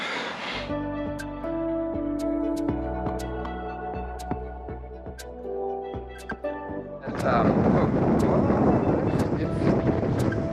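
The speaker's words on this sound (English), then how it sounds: "I'm just cresting the hill and it's blowing a headwind" A headwind roars into the microphone as a cyclist crests a hill on a ride toward Bald Hill in Sydney's south. Loud, rough buffeting fills the last few seconds after a stretch of tonal background sound.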